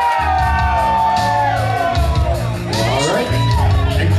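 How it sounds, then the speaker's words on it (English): A crowd at a Miss Shamrock contest screams, yells and whoops loudly for a contestant, a sustained wall of cheering voices that dips briefly midway and then swells again. "I want y'all to scream"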